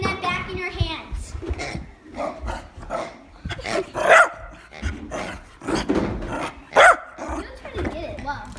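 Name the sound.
dog barking while playing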